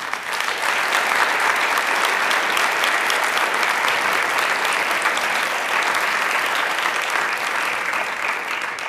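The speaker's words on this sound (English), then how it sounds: "let's give them a round of applause." Audience at a talk on family violence clapping steadily, a dense, even wash of applause from a sizable crowd that holds at full strength throughout.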